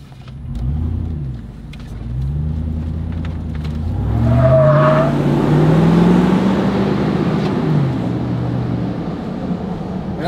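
A Chevrolet Z71 pickup truck engine drones while driving, loud and close, with rising and falling revs as it shifts through gears and a steady road rumble underneath.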